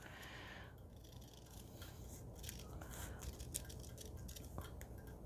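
Scissors trim fabric appliqué with quiet, close snips, several crisp cuts scattered through a faint background.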